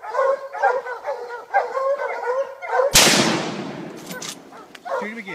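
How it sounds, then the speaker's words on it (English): Single loud rifle gunshot fired at a black bear in a tree during a hunt, a sharp crack with a decaying echo, preceded by dogs barking excitedly and followed by more yelping and barking. "Shoot him again. Shoot him again."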